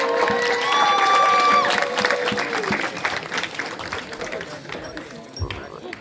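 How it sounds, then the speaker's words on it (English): Applause and cheering rise from a concert audience at the end of a pop show, with a voice talking over the crowd noise as it gradually fades. "A round of applause to the audience."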